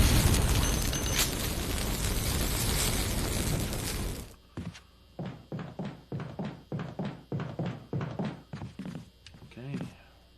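Enemy body set alight in the Resident Evil (2002) remake: a loud, dense roar of flame fills the first four seconds, then gives way to a run of evenly spaced short crackling pops under a brief voice.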